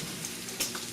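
Salmon croquette sizzling steadily in a frying pan as it is flipped, with a brief louder scrape and sizzle burst partway through.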